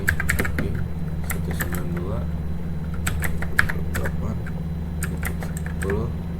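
Keys clatter on a computer keyboard as a ping command gets typed, coming as quick clusters of close clicks over a steady low hum, with some faint speech-like sounds in the background.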